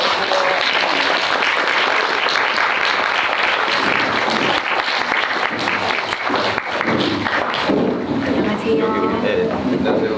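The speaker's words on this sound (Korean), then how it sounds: "박수를 다시 한번." A crowd at a film screening talk event keeps clapping for the director and cast, a steady, full wash of applause lasting several seconds, with a voice surfacing briefly near the end.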